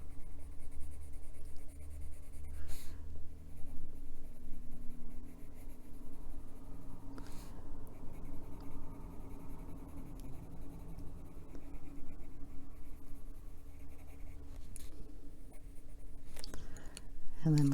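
Inktense coloured pencil shading on paper, a steady soft scratchy scribble that runs through the whole stretch with a few brief clicks and taps along the way.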